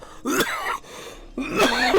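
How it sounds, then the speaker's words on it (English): Two close, raspy coughing fits from a man recovering from illness with a lingering cough, each harsh burst trailing into a throaty rasp, separated by a brief pause. "now it's like I got an annoying cough"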